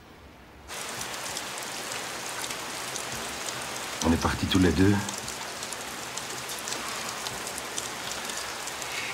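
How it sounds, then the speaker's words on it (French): Rain falls steadily and hisses on a surface throughout. A voice speaks briefly partway through. "Il s'est mis à pleuvoir."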